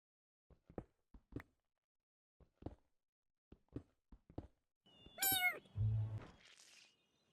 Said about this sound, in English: What are you meowing at me?